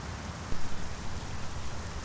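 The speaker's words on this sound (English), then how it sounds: "The very heavy rain, you can hear it, you can feel it." Heavy rain in Euro Truck Simulator 2 with Scandinavia DLC, a dense, loud, continuous downpour drumming on surfaces, swelling slightly midway.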